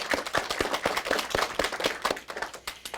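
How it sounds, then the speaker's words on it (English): A small audience at an elementary school derby match claps: brisk, uneven applause from a handful of people, close and steady for a few seconds with no talking. "I need a round of applause for yourselves for doing a super job"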